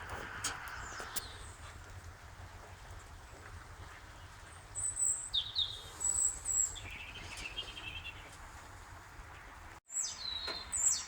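Birds chirping and calling from a shed, with short high tweets clustered around the middle and end of the clip, moderately close, over a steady low background rumble of rain and a roaring fire.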